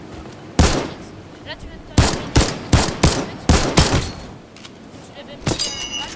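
Gunshots from a Fortnite competitive match, a rapid series of sharp, loud shots in bursts over game background noise, with someone speaking French over the gunfire.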